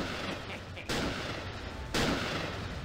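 Sniper rifle shots in TimeSplitters Future Perfect, two sharp loud cracks about a second apart, each followed by a lingering noisy tail over a busy game background.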